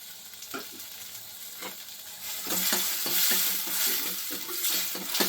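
Asafoetida tempering sizzles in hot oil in a home kitchen while rasam is being made, a crackling fry that swells louder midway, punctuated by several sharp stirring clinks and scrapes, with no voices.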